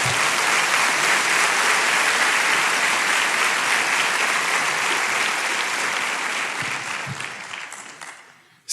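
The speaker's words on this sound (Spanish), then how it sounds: "Dele ese fuerte aplauso a Dios" A church congregation applauding during a sermon, a loud steady wash of clapping that holds and then fades out over the last couple of seconds.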